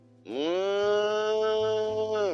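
A man imitates a cow, or heifer, mooing with his own voice: one long, loud, close moo that swells in, holds steady for about two seconds, then cuts off.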